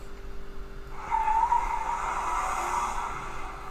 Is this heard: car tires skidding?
yes